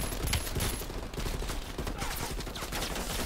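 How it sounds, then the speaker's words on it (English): Rapid bursts of automatic gunfire crackle continuously in the Call of Duty Cold War campaign, dense and loud with shots overlapping throughout. "I'm getting shot more than in normal Call of Duty, so that's good."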